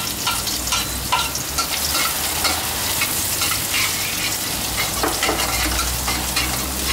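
Chili and garlic stir-fry in hot pork lard, a dense, loud, continuous sizzle with repeated scraping stirs of a spatula in the pan, close up and steady throughout.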